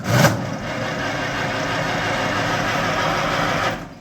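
A 1949 Farmall H tractor engine cranks on the starter and catches, then settles into a steady, loud, close idle that runs evenly for several seconds before cutting off.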